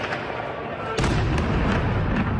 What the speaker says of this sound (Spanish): Los habitantes de Kiev amanecieron entre fuertes explosiones.